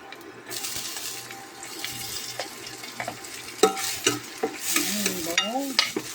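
Onions are sautéed in a pan with fried tofu, giving a steady sizzle under repeated spatula scrapes and stirring clatter that grow busier toward the end.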